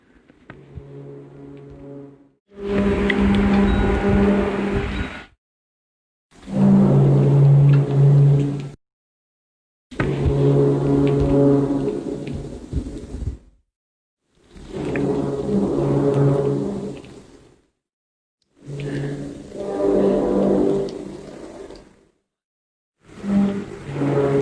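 Eerie groaning from the sky over Anchorage, Alaska: six long, low, droning moans with a metallic, horn-like tone, each swelling and fading for a few seconds, separated by short silences.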